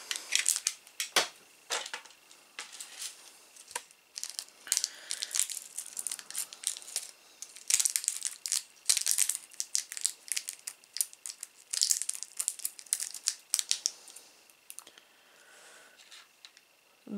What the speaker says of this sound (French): je vais récupérer mon cutter pour ouvrir le sachet